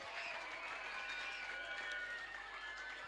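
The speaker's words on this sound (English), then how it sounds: "Guys, a round of applause." An audience claps continuously at an awards event, a dense, even wash of applause that holds at one level throughout.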